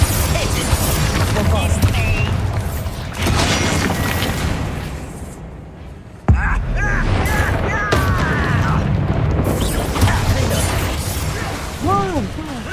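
Confringo fire-blast spells in Hogwarts Legacy combat, booming bursts and crashes over busy battle noise, with a sharp loud hit partway through and a voice talking at times.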